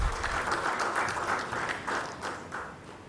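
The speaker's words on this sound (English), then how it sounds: "Please welcome ma'am with a round of applause." An audience at a smart-city conference in Goa applauds a guest invited on stage, a moderately distant, even roll of many hands that rises and falls slightly before easing toward the end.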